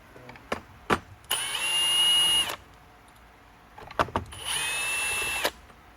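A power driver unscrews Torx T20 screws from the base of a Bissell Healthy Home vacuum during a teardown, in two loud whirring bursts of about a second each, separated by small clicks and handling knocks.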